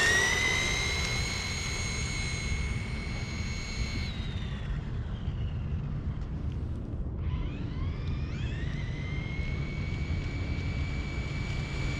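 A Kyosho Javelin RC car upgraded with a 550 motor screams past with a high, whining motor pitch that drops as it moves away, then rises sharply again on the return run, over steady wind noise outdoors.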